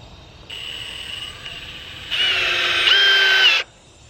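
A Milwaukee 2997-22 cordless drill/driver whirs up close in two bursts, the second louder and higher-pitched, with a brief dip between and quiet on either side.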